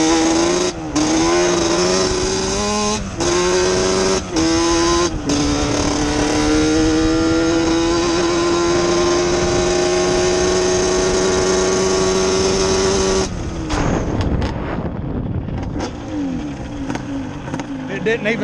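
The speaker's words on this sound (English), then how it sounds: "I'm gonna kinda get up in six and hold it about half throttle." A 421 Cub motor, a small engine in a racing kart, drones loud and close at a steady rising pitch while held around half throttle, then cuts off and sputters near the end, with a voice talking over it at times.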